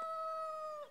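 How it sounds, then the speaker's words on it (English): A cockerel's single drawn-out tonal call, steady and held for under a second, fairly faint, like the tail of a crow. "that would be Elvis, my cockerel, wants to make a contribution to the video."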